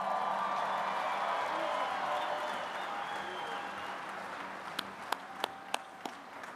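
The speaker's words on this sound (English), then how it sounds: "Let's have another great round of applause for all these strongmen." Crowd applause at the 2018 Arnold Strongman Classic finals fills the arena for the winning strongmen, a dense sustained roar of clapping that fades slightly, ending with a few sharp isolated claps.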